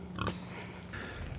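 Pigs on pasture, including a nursing sow with piglets, give a brief grunt near the start, then low snuffling against steady outdoor background noise.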